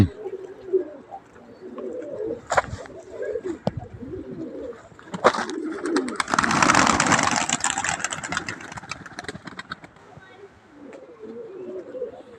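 Teka pigeons cooing nearby, with a loud rush of wingbeats as the birds take off and fly past, while someone speaks intermittently and an engine idles faintly in the background.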